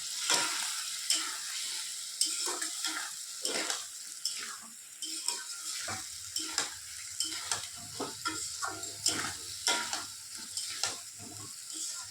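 Boiled potatoes stir-fried in oily spice masala for a potato curry, with close rhythmic scraping strokes and a soft sizzle; a low hum joins partway through.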